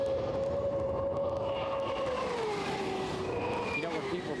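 Miss Geico racing powerboats roar past on the water in a loud, steady high-pitched engine whine whose pitch sweeps slowly downward as they go by, with continuous rumbling wash beneath.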